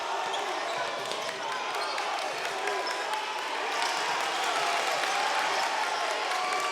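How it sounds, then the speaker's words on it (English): A home crowd at a boys' high school playoff basketball game cheers and roars steadily in a gym, with a commentator talking over the dense, continuous noise. "The Methuen crowd getting behind their team."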